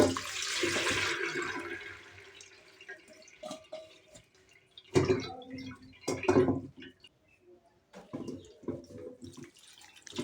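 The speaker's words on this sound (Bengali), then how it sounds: "আমি তার উপরে জল দিয়ে আবারও ধুচ্ছি" Water runs and splashes over potatoes in a strainer, a brief gush at first, then intermittent pours and drips, fairly faint with small clatters.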